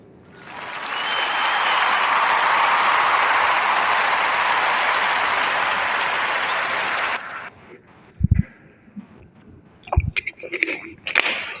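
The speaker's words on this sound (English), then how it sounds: "Round of applause for the Yellow Banana brand." Applause swells quickly into a dense, even wash of clapping that holds for several seconds and then cuts off abruptly, followed by a few scattered thumps and clicks.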